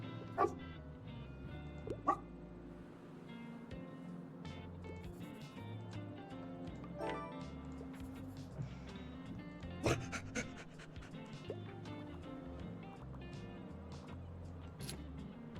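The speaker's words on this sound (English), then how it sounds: "so we've got a little dog here." Little dog in the video game Tiny Bookshop, yipping and panting in short bursts over steady game music and ambience, with a few sharper barks standing out near the start and middle.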